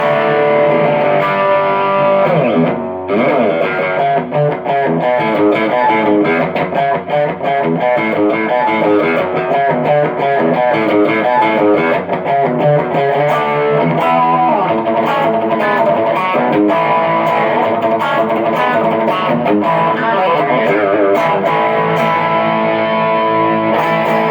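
Electric guitar played through a Tumnus overdrive pedal with a compressor engaged, a loud, continuous run of driven, compressed chords and notes with no talking.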